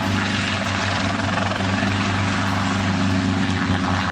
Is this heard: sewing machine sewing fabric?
no